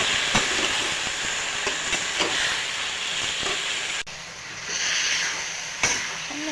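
Fish head stir-fried with green chilies and chopped ginger in a pan, a steady close sizzle with occasional scraping stirs and a brief dip midway.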